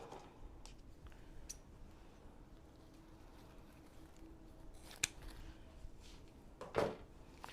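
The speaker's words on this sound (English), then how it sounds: "Just give a little haircut, trim it to the size you want it." Scissors snip faintly at a silk flower wreath for a navy pumpkin fall door decoration, with a couple of short, crisp cuts over a quiet room.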